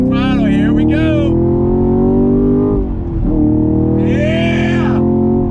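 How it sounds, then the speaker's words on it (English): A Chevrolet Camaro SS 1LE V8 engine revs hard under acceleration on a track, loud and close, with its pitch climbing through the gears, a brief dip near the middle, then a rise again. "Getting back on throttle, here we go."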